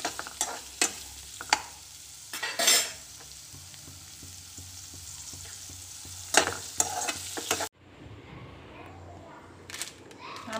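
Garlic sautés in a pan for garlic pickle, with a faint frying hiss under repeated sharp scraping strokes of a spoon. The sound cuts off abruptly partway through and turns to quieter, sparser clatter.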